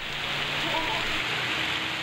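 Steady rain falls in a city in Punjab, a continuous even hiss of drops on surfaces with no clear breaks, heard on its own at moderate loudness.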